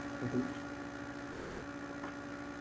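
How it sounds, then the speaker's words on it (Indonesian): A computer fan hums steadily and faintly in a room, a constant low whir with a mains-like tone running unchanged underneath. "Itu bunyi kipas bang"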